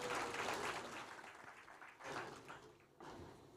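An audience at a county launch event claps for the county First Lady, a broad wash of applause that rises and falls in waves and fades out near the end.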